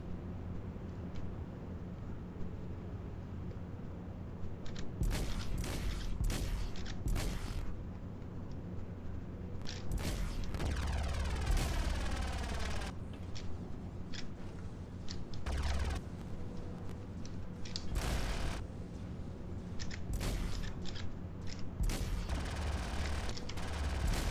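Spaceship cannons fire in bursts during a Star Citizen Arena Commander space dogfight, rapid crackling volleys with booming hits over a steady engine hum, loud and close with short pauses between salvos.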